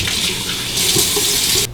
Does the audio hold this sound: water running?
yes